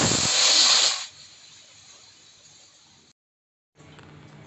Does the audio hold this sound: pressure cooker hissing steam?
yes